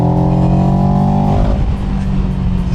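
Engine of a 700 cc beginner motorcycle, loud and close, holding a steady drone that rises in pitch before settling back to a rougher idle.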